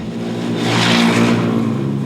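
A loud, steady engine roar swells as a European Truck Racing Championship race truck revs hard and passes nearby, then holds at a high drone.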